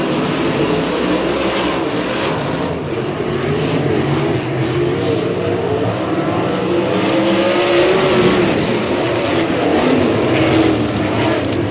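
Sprint car engines roar continuously around the Humboldt Speedway dirt track during a heat race, a loud, dense blend of revving motors rising and falling as cars pass.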